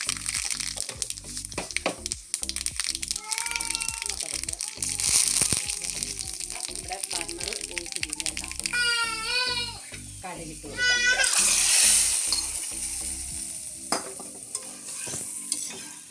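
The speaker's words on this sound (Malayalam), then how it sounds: "ഇപ്പോൾ നമ്മുടെ വേണ്ട എണ്ണ നല്ല പോലെ ചൂടായി വന്നിട്ടുണ്ട് നമുക്കിത് കടുകിട്ട് കൊടുക്കാം" Mustard seeds splutter in hot oil for a dal palak curry, with scattered sharp crackles and pops over a sizzling background, close up, alongside stirring noises and a voice partly over the cooking.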